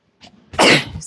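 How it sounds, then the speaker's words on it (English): A person sneezes once, loud and close, in a home kitchen while a lasagna is being assembled. A soft intake leads into the sharp burst, with no speech over it. "I gotta sneeze."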